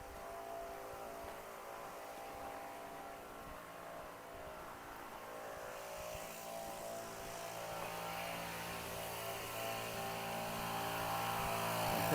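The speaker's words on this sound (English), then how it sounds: "What is that noise? Probably a snow blower of some sort, but I can't tell exactly where it's coming from." A snow blower clears a driveway somewhere off to the side during a January winter walk, a steady distant engine drone that slowly grows louder over twelve seconds.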